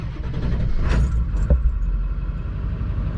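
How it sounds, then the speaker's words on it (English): A pickup truck's engine cranks with a couple of quick clunks and catches on new batteries in cold weather, then settles into a low, steady idle rumble with no talking. "I now can start my truck in the cold because I have new batteries"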